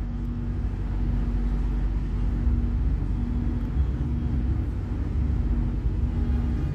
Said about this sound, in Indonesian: Ini Joglo Semarkerto tujuan Solo Balapan dulu ya yang berangkat.